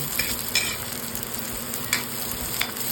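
Carrots being sautéed in a pan for a simple chicken curry, a steady soft sizzle with a few brief clinks and scrapes of stirring, close and alone with no talk.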